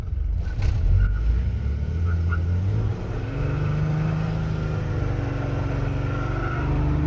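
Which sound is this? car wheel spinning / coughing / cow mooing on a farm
car wheel spinning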